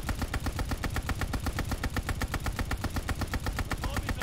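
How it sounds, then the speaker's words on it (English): Sustained rapid automatic gunfire from a KG M40 in a search and destroy video game match, a dense unbroken stream of shots, loud and close throughout with no pauses. "Just keep on shooting that direction."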